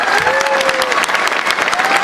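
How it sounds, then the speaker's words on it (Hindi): Loud, continuous audience applause with crowd noise, a dense wash of clapping filling the whole stretch at an event honouring a railway police sub-inspector's success story, with a faint tonal whistle or voice drifting over it. "धमाकेदार तालियां, बिल्कुल जोरदार।"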